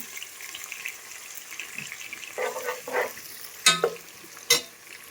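Two large onions fry in a pan until golden, with a low sizzle underneath, a few stirring scrapes, and two sharp clanks of a spoon against the pan near the end.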